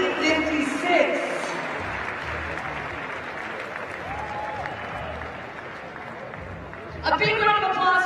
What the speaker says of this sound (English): A big round of applause for all of our event winners.